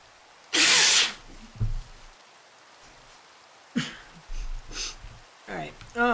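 A woman sneezes loudly and suddenly at close range, one burst of sneezing followed by a few softer breathy sounds and short bits of talk.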